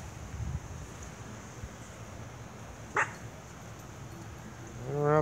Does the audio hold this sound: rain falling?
no